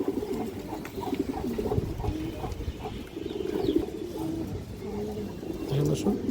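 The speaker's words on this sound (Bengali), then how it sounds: "আরও একটা নর কবুতর, এটা আমার উড়ানো কবুতর।" A male flying pigeon, over two decades old, coos in soft repeated low phrases close by, with a voice talking throughout and faint chirps in the background.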